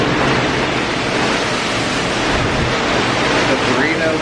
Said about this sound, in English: the ocean's very loud today, but the water is a little rough